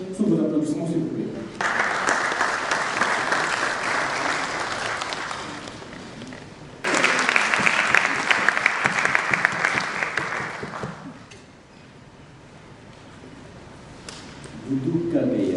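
Audience applause welcoming a speaker at a book event, sustained clapping in two long bursts, each fading out, with speech heard at the start and end.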